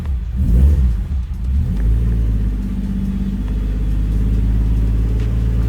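A car engine revs after a Link ECU install, a loud, close, rumbling rise in engine note that settles into a steady, slightly rough drone, with no talking.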